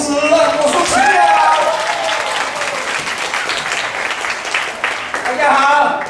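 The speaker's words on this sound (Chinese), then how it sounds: "我们掌声欢迎郑牧师。" Audience applause welcoming a pastor at a church Christmas evening gathering, a steady wash of clapping lasting about six seconds with voices and cheers mixed in, swelling again near the end.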